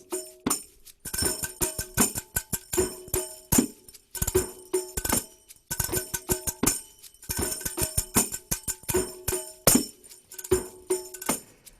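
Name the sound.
zills (finger cymbals) played with fingers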